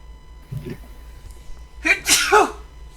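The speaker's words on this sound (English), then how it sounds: "I'm sneezing a lot today." One sharp sneeze bursts out close by after a brief faint breath, loud and sudden against an otherwise quiet background.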